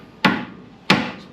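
Two sharp hammer blows land about half a second apart, each a crisp close impact with a short ringing decay.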